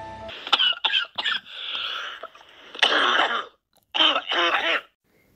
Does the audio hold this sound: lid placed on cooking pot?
no